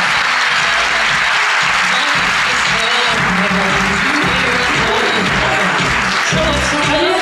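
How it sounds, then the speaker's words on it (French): Audience applause at a Miss Côte d'Or 2023 beauty pageant in Châtillon, a steady, dense clapping from a large crowd that fills the hall continuously and loudly throughout. "On peut l'applaudir."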